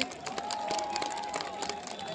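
An audience claps and cheers at the Jagatdal Utsav 2025 concert during a live performance, a continuous wash of many hands heard throughout over a faint sustained tone.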